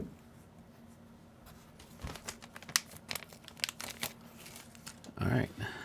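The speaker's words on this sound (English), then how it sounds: "Go ahead and put them in this little bag." Small plastic bag crinkling and rustling as leftover screws from a KBD67 Lite keyboard build are dropped in, a run of close, irregular crackles and taps with a louder rustle near the end.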